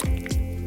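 Vegetable oil pouring into challah batter, heard as two quick wet glugging squishes close up, with no voices.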